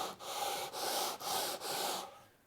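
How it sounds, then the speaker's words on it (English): A wooden edge is rubbed back and forth on sandpaper laid on a flat surface, four or five even, close strokes with short pauses between them, fading out at the end. "Easiest way to do that, put sandpaper on a nice flat surface."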